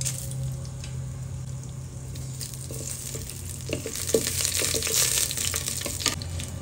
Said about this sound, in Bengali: আর এই তেলের মধ্যে এইগুলো ফোড়নে দিয়ে দেবো।